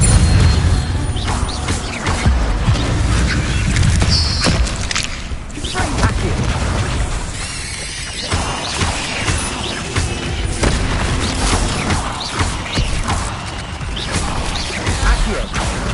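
Bombarda spell explosions boom during a spider fight in Hogwarts Legacy on PS5, a dense, loud stretch of heavy blasts, crashes and impacts layered with combat effects and game music.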